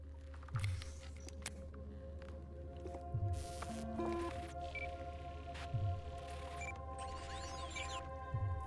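Cyberpunk 2077 biomonitor jack-in effect: a low steady electronic hum with repeating soft squishy pulses about every two and a half seconds, plus brief digital beeps and scanning tones layered over a background game soundscape, no voices.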